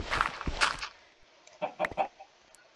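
A Minecraft chicken clucks in short bursts, a few near calls spaced through the clip over a quiet game background, alone without speech.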